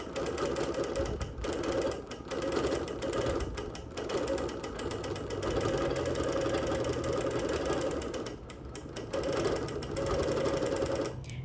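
A sewing machine quilting through wool, a continuous close mechanical whir with rapid needle chatter, pausing briefly a few times before resuming.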